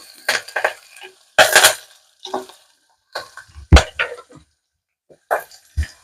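Curry leaves frying in a pan on a lowered stove alongside onions and green chillies for a cabbage tomato curry, heard as intermittent sizzling bursts and stirring scrapes with short quiet gaps between them.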